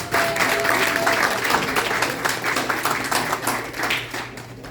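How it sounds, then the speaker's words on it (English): Audience at a graduation ceremony applauds the parents with a burst of lively clapping, close and fairly loud, pulsing unevenly over a low room hum and easing slightly toward the end. "Can you give the parents a round of applause,"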